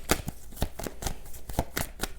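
Tarot cards shuffled and drawn by hand, close and clear, with a steady run of crisp riffling snaps and taps alone without speech.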